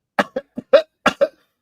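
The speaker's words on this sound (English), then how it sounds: "I got that cough back that I've had all week." A run of six sharp, dry coughs in quick succession, close and loud, with brief pauses between them.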